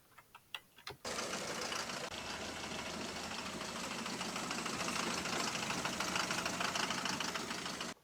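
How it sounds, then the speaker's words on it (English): Bus engine pistons knock in a rapid, even clocking rhythm under a loud continuous engine roar that starts abruptly after a few isolated clunks. "The pistons make produce that clocking sound the engine makes."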